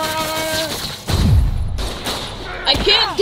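Gunfire in a Spider-Man mobile video game, heard as a burst of heavy thumping shots mixed with game effects and music, loud and close, with excited talk over parts of the scene.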